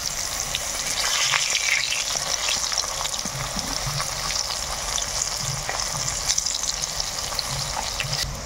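Banana stem peel pakoras bubble and sizzle steadily in hot oil, a loud, continuous frying hiss with scattered pops and no talking.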